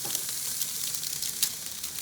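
A steady hiss and fizz of boiling liquid nitrogen bubbling away, with occasional sharper crackles and pops, fairly close.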